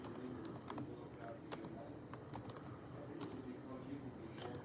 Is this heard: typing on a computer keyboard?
yes